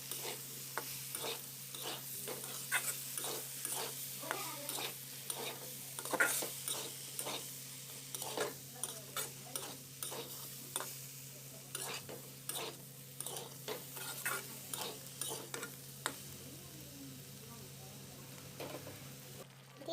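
Cumin, cumin powder and coriander frying in a pan of pulao while a spoon stirs, giving a soft background sizzle broken by repeated clinks and scrapes in a loose, steady rhythm, fairly quiet and close.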